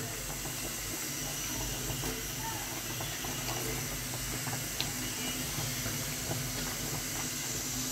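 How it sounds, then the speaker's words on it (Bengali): Pot of carrots, yardlong beans and peas boiling on a kitchen stove: a steady, fairly loud hissing, bubbling wash of water throughout, with faint clinks and no clear talk. "বরবটিগুলো কেটে রেখেছিলাম, ওগুলো একটু সিদ্ধ করে নেব, গাজর, বরবটি আর মটরশুঁটিটা।"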